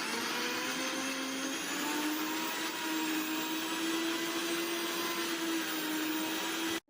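Mixer grinder whirring steadily as it blends roasted coconut paste with a little water for a mutton head curry, one continuous loud hum with a rising tonal whine, stopping abruptly at the end.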